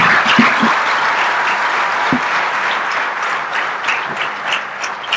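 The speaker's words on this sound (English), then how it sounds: "Ladies and gentlemen, a big round of applause." Steady, dense audience applause at a conversation event with author Sudha Murthy, loud and sustained throughout, with no voices over it.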